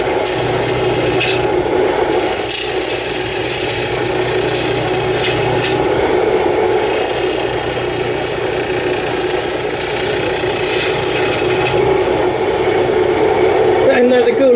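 A gouge cuts a spinning piece of Mahonia wood on a woodturning lathe, a steady loud scraping rasp over the motor hum, its intensity shifting as the tool engages and lifts.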